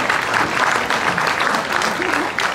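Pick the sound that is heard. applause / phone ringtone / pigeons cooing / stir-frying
applause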